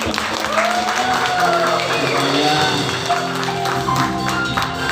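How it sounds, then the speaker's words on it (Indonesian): A church congregation applauding during a Sunday worship service, with sustained clapping heard throughout, backed by music. "Kita berikan tepuk tangan."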